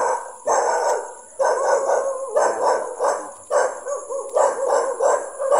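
Several dogs bark and howl repeatedly in loud, overlapping bursts, fairly close, with short gaps between calls.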